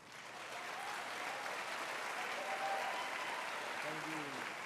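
An audience at a university graduation ceremony applauds student leaders, a steady, fairly faint wash of many hands clapping that swells briefly and holds for several seconds, with a hint of voice near the end.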